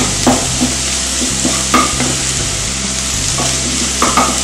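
Potato fry seasoned with chili powder sizzles loudly and steadily in a pan, with repeated scraping and clatter from stirring, close and continuous, with no voices.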